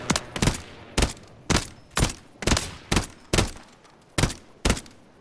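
Call of Duty gunfire: loud, close single shots repeat at roughly half-second to one-second intervals, each a sharp crack with a short decaying tail.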